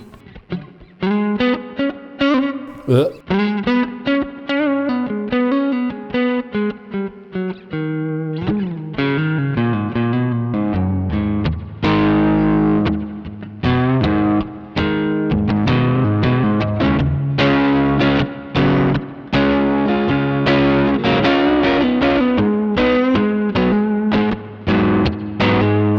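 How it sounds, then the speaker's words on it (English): A mellow, slightly overdriven electric guitar on its neck pickup through a Mosky Classic M Shall amp simulator plays a melodic passage with chords and single notes, carrying some reverb and sustain. "the neck pickup sounds quite mellow"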